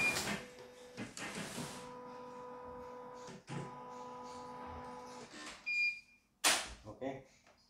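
A portable embroidery machine at a repair shop starts up with mechanical clacks and then runs with a steady motor whine and tonal hum, punctuated by sharp clicks and thumps near the end.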